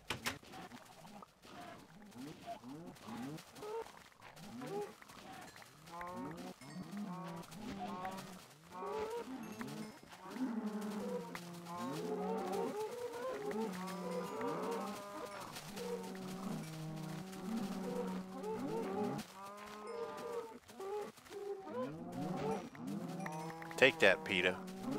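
Cattle mooing in Minecraft, a run of repeated low moos and other animal calls close up with no talk, holding steady over the whole stretch.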